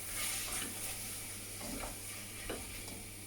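Broad beans, bacon and garlic sizzle steadily in a pan, a soft continuous frying hiss broken by a few scraping stirs, close and fairly quiet with no talking.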